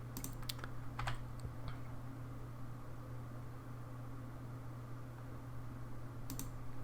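Several computer keyboard keys are tapped in two short clusters at the start and a single press near the end, quiet clicks over a steady low hum.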